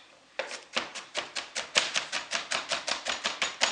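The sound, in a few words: chopping onion into small pieces on a cutting board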